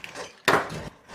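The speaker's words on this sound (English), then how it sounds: "There's somebody hammering on my door." A single heavy thump of someone hammering on a door, close and sudden, rings briefly and fades, followed by a quieter knock at the end.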